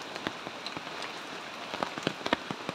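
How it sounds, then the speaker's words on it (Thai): Steady heavy rain pours down in Phayao, Thailand, a dense hiss with scattered sharper drop impacts, fairly close and continuous throughout. "ฝนมาแรงแล้วนะคะทุกคน"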